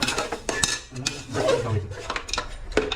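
A spoon scrapes and knocks against a cooking pot as mutton is stirred for a village-style Dhangari mutton gravy, with a few sharp metallic clinks and shuffling strokes close by.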